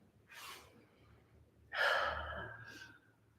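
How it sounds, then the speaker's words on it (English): A deep breath taken during a guided stretching session, with a soft inhale followed by a louder, longer exhale, both close and with no speech. "Go ahead and take one more deep breath."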